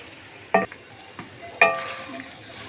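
Spoon scraping and stirring chicken macaroni with vegetables in a metal pan, two sharp clanks with a lighter knock between over a quiet sizzle, close and clear without speech.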